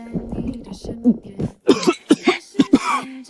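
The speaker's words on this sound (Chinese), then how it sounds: "拿起勺子喝了一口，被呛得直咳嗽" A man coughs hard several times in quick succession after choking on a gulp of very strong liquor, close and loud, with voiced throat sounds between the bursts.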